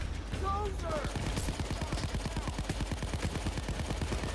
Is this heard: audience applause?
no